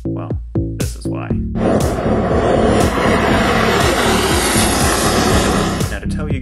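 A homemade jet engine runs with a loud, steady roar that builds after a few short bursts and holds for several seconds, close by and dominating the scene.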